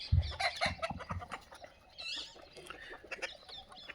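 Desi free-range chickens cluck and chatter close by on a poultry farm, a busy overlapping flock with sharp short calls, no talk over them.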